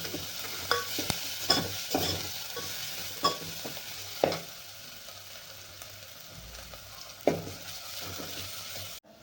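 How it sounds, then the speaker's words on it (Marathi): Coarsely ground masala of ginger, garlic and coriander roasts in a pan, a quiet low sizzle punctuated by a handful of distinct spoon scrapes and taps, close and without talk. "मसाला पण आपण चांगला भाजून घेणार आहे आता"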